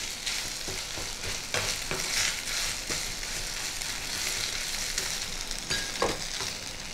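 Grated coconut sautés in a hot pan for a Bengali dudh shukto with chhana, giving a steady, close sizzle with repeated scraping stir strokes and no talk.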